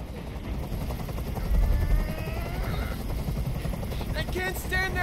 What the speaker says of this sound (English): I can't stand that noise anymore. Tell that helicopter to get out of here.